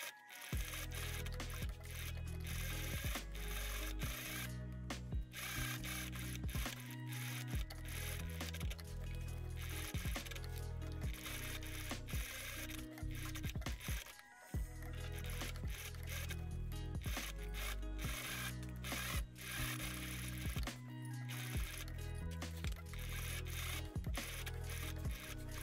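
A sewing machine runs fast and steady as it stitches bias binding around corset tabs, a dense mechanical whir close to the listener. It carries on almost without a break, pausing briefly a few times.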